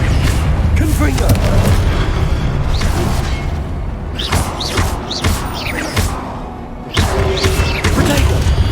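The Confringo explosion spell in the video game Hogwarts Legacy: repeated loud booms and blasts burst one after another through combat noise, with voices calling out in between.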